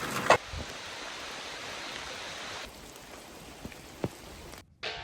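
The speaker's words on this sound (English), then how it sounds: "It's raining." Rain drumming on a van at a national park campsite in Australia, a steady close hiss with a few sharper drops and knocks, ending in a brief quiet gap.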